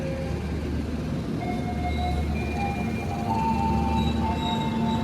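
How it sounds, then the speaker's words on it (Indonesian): The Argo Lawu passenger train rolls by with a steady, loud rumble of wheels on rails and faint drawn-out tonal squeals above, continuous throughout with no voices. "Kereta kesukaannya Mas Risang nih, Argolawu."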